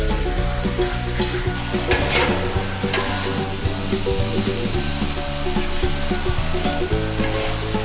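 Steady loud sizzling and frying of crab sticks and glass noodles in a hot pan, with repeated scraping and stirring strokes throughout, no voices.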